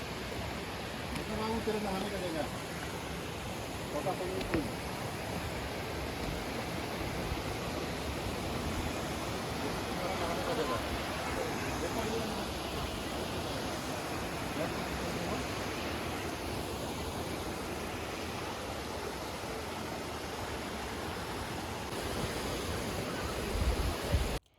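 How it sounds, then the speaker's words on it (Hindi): Steady broadband rush of flowing water at a riverside picnic spot with a footbridge, continuous and fairly loud throughout, with faint voices mixed in underneath. "यहाँ पानी की बहुत अच्छा आवाज़ भी सुनाई दे रहा था।"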